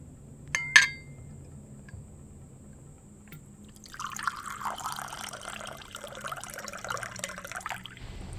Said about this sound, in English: as I put it down, a splash of water got in this